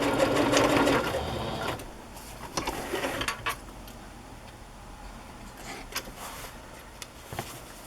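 A sewing machine stitches muslin fabric for a fabric journal cover, whirring steadily and fairly close for about two seconds before dropping to quieter scattered clicks and mechanical ticks.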